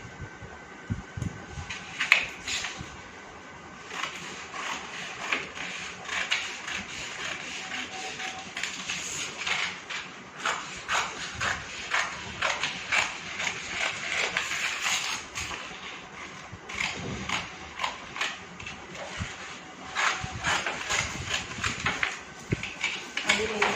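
Scissors cut blouse fabric in repeated snipping and shearing strokes, close and fairly crisp. Someone talks throughout the cutting.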